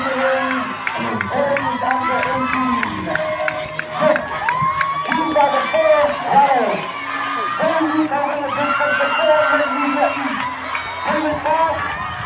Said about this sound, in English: please stop cheering before the gunshot